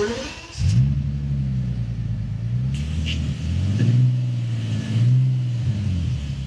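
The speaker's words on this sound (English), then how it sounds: "I'll start it up so you can hear it." A car engine catches after a brief crank and settles into a loud, steady idle close to the listener. It swells a few times in gentle revs, and no one talks over it.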